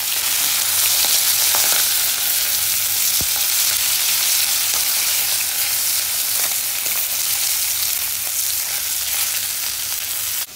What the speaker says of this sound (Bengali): এই ভেটকি মাছের মাথাগুলো প্রায় ভাজা হয়ে এসছে।